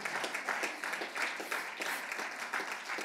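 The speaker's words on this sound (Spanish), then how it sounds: "Un aplauso fuerte al Señor." A church congregation applauds, a sustained patter of many hands clapping with uneven pulses, fairly close and moderately loud, without speech over it.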